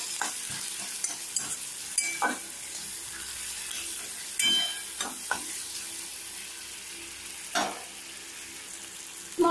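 Spices and ginger-garlic paste with a pinch of sugar sizzle steadily in a pan, with repeated scraping stir strokes cutting through the frying hiss, no talking.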